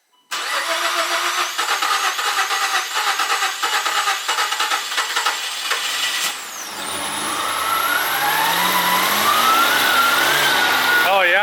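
A car with a smoking turbo cranks, catches and runs loudly up close, its rough engine noise settling into a whining, rising idle after the start, with voices nearby.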